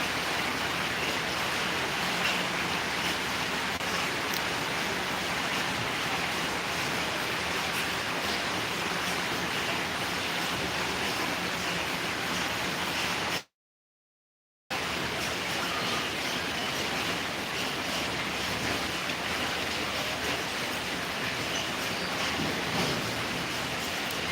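Heavy, constant rainfall hisses without letup, broken once by a second of total silence before the downpour resumes.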